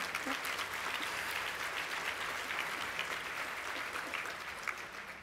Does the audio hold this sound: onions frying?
no